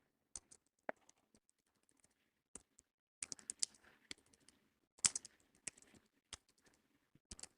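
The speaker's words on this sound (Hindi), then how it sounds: "मेरी टाइपिंग थोड़ी सी बेकार है" Someone types on a computer keyboard in quiet surroundings, producing sparse, irregular clicks and short bursts of keystrokes at close range.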